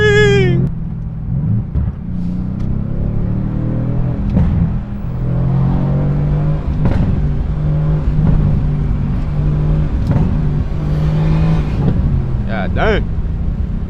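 A twin-turbo Mercedes-AMG 63 engine hums and revs steadily while driving, with someone talking over it throughout and a brief higher-pitched sound near the end.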